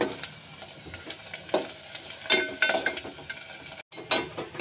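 Onions browning in oil in a pan, crackling and sizzling up close with scattered clinks and scrapes of stirring, one brief cut to silence near the end, and no talking.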